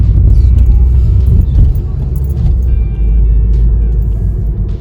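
A car pulling into a parking spot on the left, a steady low engine rumble and road noise filling the cabin throughout.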